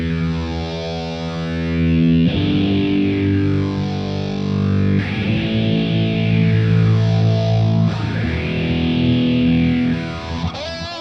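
An electric guitar played through a Positive Grid Spark amp with distortion and modulation effects, sustained chords swelling and sweeping in a slow, repeating wavering motion, three phrases in a row, loud and alone without speech.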